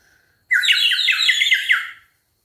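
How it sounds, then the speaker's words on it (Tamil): A clay water whistle filled with water, blown once for about a second and a half, producing rapid warbling chirps like a sparrow, bright and close with silence around it. "பாத்தீங்களா அசல் குருவி கத்துற சத்தம் மாதிரி கேக்குது."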